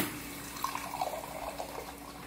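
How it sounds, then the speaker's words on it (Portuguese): Water poured into chicken lasagna sauce, a steady splashing trickle lasting a couple of seconds, close and moderately loud with no talking. "Então eu vou colocar mais um pouquinho de"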